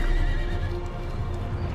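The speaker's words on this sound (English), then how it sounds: "the boy Alexander realized that the horse was afraid of its own shadow and turned it towards the sun." Hooves clatter steadily with a horse's whinny blended into a dense, continuous mix of rumble and noise in an Age of Empires II cutscene about Alexander the Great taming Bucephalus.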